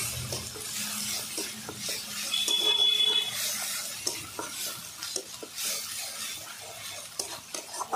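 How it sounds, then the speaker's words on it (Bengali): A ground spice paste of ginger, green chilli, cumin and bay leaf is stirred and fried in a pan, with steady scraping spatula strokes over a soft sizzle and occasional clinks of metal, close up and without talk. "ভালো করে আমি কষিয়ে নিচ্ছি 2 মিনিট"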